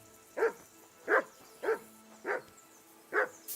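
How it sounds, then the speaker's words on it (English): Five evenly spaced, moderately loud barks from a dog in the medieval open-world game Kingdom Come 2, each short and clear against a quiet background. "Call off that mutt of yours!"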